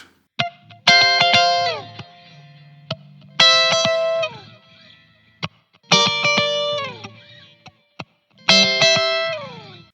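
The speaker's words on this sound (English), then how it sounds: "I'm just going to play 2 strings, kind of a double stop" Funky electric guitar double-stops strike in short choppy bursts, four repeating phrases with pitch slides and distorted, effect-laden tone.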